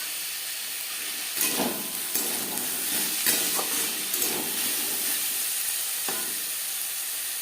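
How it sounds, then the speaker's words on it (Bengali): Vegetables stir-fry in a pan with spices, onion and garlic, giving a steady loud sizzle and hiss broken by occasional scraping stirs. "মশলা ও পেঁয়াজ রসুনের সাথে সবজি বেশ ভালো করে মিক্স করে দেবো"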